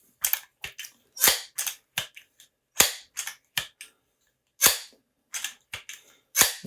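A Crosman 1377 pump air pistol being handled and fired, heard as a close series of sharp, dry cracks and clicks with short silences between them.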